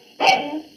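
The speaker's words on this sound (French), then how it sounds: "c'est le chien." A dog lets out a single short, sharp bark, close and loud, and it fades quickly.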